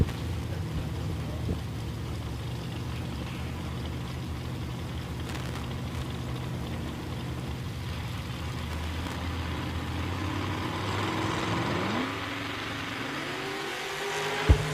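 Drag racing trucks, among them the Big Tire Love truck, rumble loudly and steadily at the start line, with engine pitch climbing in revs toward the end.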